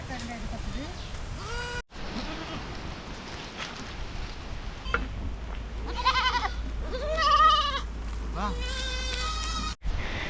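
Young goat kids bleat repeatedly outdoors on a grazing farm, several wavering, nasal cries clustering in the second half, fairly close and clear, with someone talking over parts of it.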